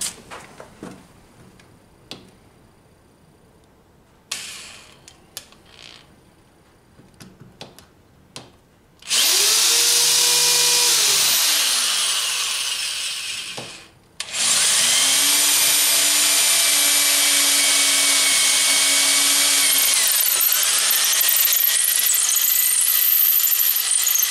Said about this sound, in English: all we're gonna do is just drill a decent hole